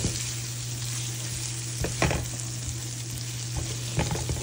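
Shrimp fry in a hot pan and get tossed, giving a dense, steady sizzle up close with a few soft scrapes and bumps as the pan is moved, and no voices over it.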